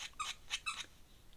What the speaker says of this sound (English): when he squeezes the ball with his teeth, it squeaks.